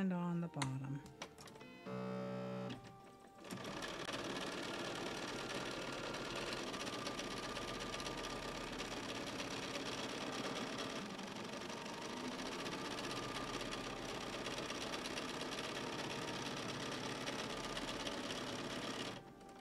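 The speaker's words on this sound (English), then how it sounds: "I have put a freeform sewing foot on my sewing machine, and I'm using white thread on the top and on the bottom." A home sewing machine fitted with a free-motion foot stitches a quilt with white thread, a fast continuous mechanical whir running steadily after a few brief starts, close and alone.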